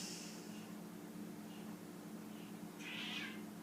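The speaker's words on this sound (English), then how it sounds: "did you hear my cat? I hope you did." A cat meows once, fairly clear but a little distant, over a steady low hum in an otherwise quiet room.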